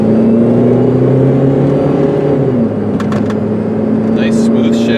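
A 2000 Chevy Cavalier with a 2.2 liter 4-cylinder engine drives along with a steady, close engine drone and road hum, while someone talks over it throughout.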